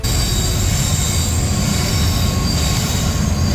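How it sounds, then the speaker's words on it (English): A very long train rolling past close by, a loud, continuous rumble of railcars with high-pitched wheel squeal ringing over it, steady and unbroken from start to finish, with no talking. "That genuinely was going past me for like 3 minutes. That's how big that train was."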